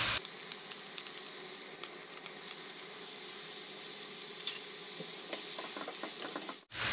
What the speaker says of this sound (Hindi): अब इसको हम तकरीबन 5 मिनट तक अच्छे से भूनेंगे कीमे को